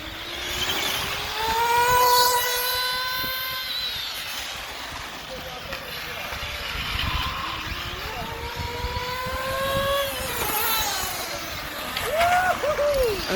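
Electric RC cars racing, a Kyosho custom-built GT2, a Hobao GTB and an Arrma Kraton, their high motor whines rising and falling as they pass and corner, with a commentator talking over the race.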